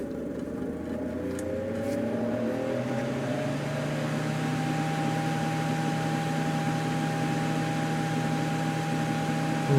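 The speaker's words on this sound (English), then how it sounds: "Let's just put just the fan on. See what the fan alone uses." A vintage heater's fan runs on its low setting with a steady, fairly quiet whirring drone. A faint low hum sits underneath, and the tone shifts slightly early on before holding constant to the end.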